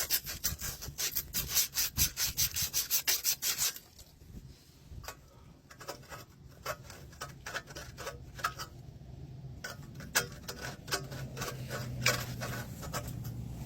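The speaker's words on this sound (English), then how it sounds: "You just sand this side for right now." Someone hand-sands the end of a new copper pipe while prepping it for soldering, giving a close, steady run of rapid scratchy rubbing strokes that pause briefly, then resume more irregularly.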